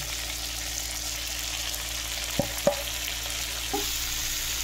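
Tomato fries with ginger and green chili paste and ground spices in a pan, a steady close hiss with a few soft knocks of a spoon against the pan.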